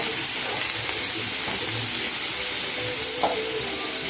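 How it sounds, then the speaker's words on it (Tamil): Onion, tomato and curry leaves sautéing in hot oil with mustard seeds for a broad bean stir-fry: a continuous bright sizzle and hiss with occasional soft scrapes and stirring knocks, close and even throughout. "இதில் வெங்காயம், தக்காளி, கருவேப்பிலை போட்டு வதக்கிட்டுருக்கேன்."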